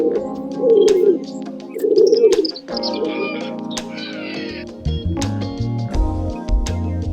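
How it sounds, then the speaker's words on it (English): Pigeon cooing, two loud, throaty, rolling coos close by, followed by softer bird sounds and a low musical backing. "Yes, that's right, it's a pigeon!"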